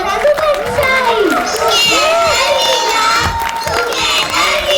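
Children and an audience cheer and shout loudly at a school annual function's gala finale, a dense, continuous roar of young voices with excited whoops rising over it.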